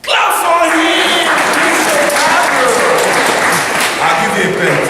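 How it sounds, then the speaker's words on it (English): Loud, dense audience applause fills the whole stretch, many hands clapping steadily at close range with cheering voices mixed in. "Clap for him!"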